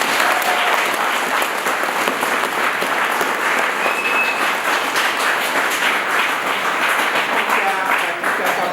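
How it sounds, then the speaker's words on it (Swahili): A crowd at a political rally for the Chama cha Mapinduzi party in Ludewa applauds, a dense, loud and continuous clapping that holds steady from start to finish with no pauses. "Pigieni makofi mengi sana."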